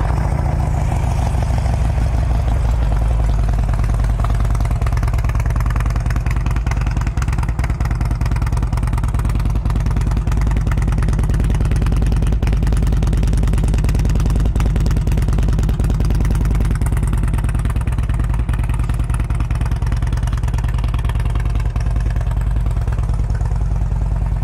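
A fuel-injected 2007 Harley-Davidson Road King with 14,068 miles idles steadily nearby, its loud low rumble and mechanical clatter continuing unbroken without speech.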